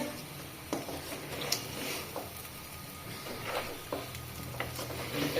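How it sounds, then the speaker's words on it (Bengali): Rice fries in a pan under steady stirring: a continuous low sizzle broken by sharp scrapes and clicks of a utensil against the pan at irregular intervals, close and moderately loud. "চালটা সুন্দর করে ভাইজে নিচ্ছি"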